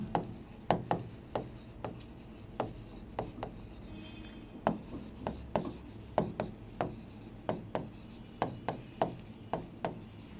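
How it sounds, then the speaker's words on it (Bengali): A pen scratches on paper while maths working is written out, giving a steady series of short, close scratchy strokes in an irregular rhythm that carries on throughout. "লিখে নিলাম"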